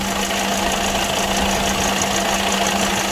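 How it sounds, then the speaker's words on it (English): A 2016 Seat Alhambra engine idles in a workshop during a brake fluid service, a steady, loud mechanical drone with a constant low hum and no break. "Okay, start the engine, check the leak"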